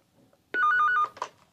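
A telephone rings once in a short electronic trill burst, clear and close, followed by a faint second blip.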